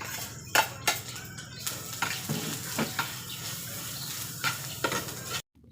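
Pork fat sautéing in its own rendered fat in a pan for papaitan, with steady sizzling broken by stirring scrapes and utensil clinks against the pan, then a sudden stop.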